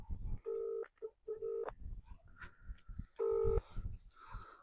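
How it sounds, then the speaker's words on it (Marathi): A phone number dialed on a keypad, several distinct DTMF tones of uneven length with short pauses between them and faint handling noise, quiet and close. "पाटलाला फोन लावतो"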